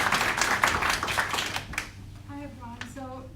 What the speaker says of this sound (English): So right, big round of applause for Judith.